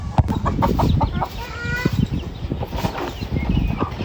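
A mother hen clucks in short, repeated bursts close by, with a few rising calls from other chickens mixed in at a farm hut.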